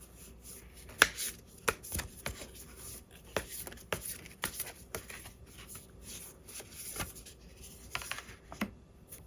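Tarot cards are shuffled and drawn at a table: soft, scattered flicks, slaps and riffling taps, quiet and close, with no talking.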